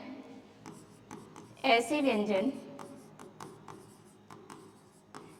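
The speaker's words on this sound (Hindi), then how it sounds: "यहाँ हम इसको लिख सकते हैं" Chalk or marker scratching across a classroom board during a Hindi grammar lesson, a steady rubbing stroke with brief scrapes, heard alongside a teacher's speech.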